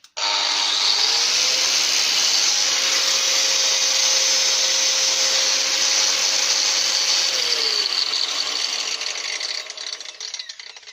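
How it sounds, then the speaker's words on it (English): Hikoki brushed angle grinder spinning up, running steadily at a loud high whine for about seven seconds, then spinning down; close and alone, no talk. "I think that's going to be my go-to grinding machine now."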